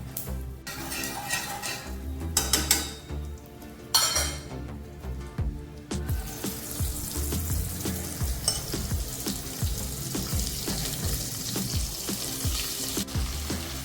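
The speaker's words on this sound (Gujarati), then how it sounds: "હવે બધી ડુંગળી આપણે આમાં એડ કરી લઈશું" Sliced onions hitting hot oil seasoned with asafoetida over medium flame, a loud steady sizzle with occasional clinks and scrapes of a utensil, continuing without speech.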